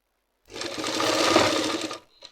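An electric sewing machine stitches a petticoat in one steady, close whirring run of about a second and a half, followed by a brief faint tap.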